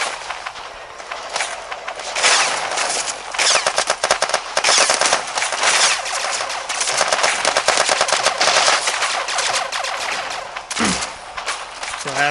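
Blacktusk weapon firing in the iOS shooter game Armajet: loud, sustained rapid-fire bursts rattling almost nonstop, with a brief break near the end.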